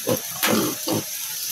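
A pig on a Filipino backyard farm gives three short grunts in quick succession, close and fairly quiet, with a soft watery background.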